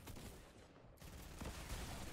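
Rapid bursts of gunfire and shotgun blasts from Fortnite during a competitive duos tournament final, dense and continuous at steady loudness for the whole stretch with no talk over it.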